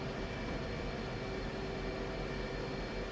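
An F-15E strike jet taxiing in the flight simulator DCS World gives off a constant, even engine drone with a steady whine riding on top, unbroken from start to finish.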